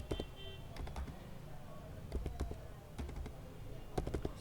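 Fingers type on a computer keyboard during an HTML coding lesson, with irregular bursts of soft key clicks over a low background hum.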